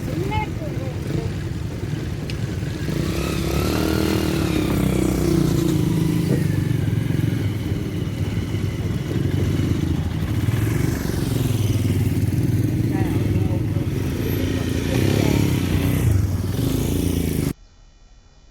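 A motorbike ridden through the streets of Hoi An, Vietnam, its engine droning steadily and close for most of the stretch, with rattles and road noise layered over it before cutting off abruptly near the end.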